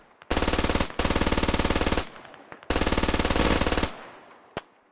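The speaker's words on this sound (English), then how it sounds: "Oh, MG3, that's not good." An MG3 machine gun in the Squad video game fires two long, loud sustained bursts of rapid rounds with a brief gap between, followed by a faint single distant shot.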